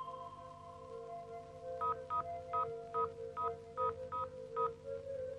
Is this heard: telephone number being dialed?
yes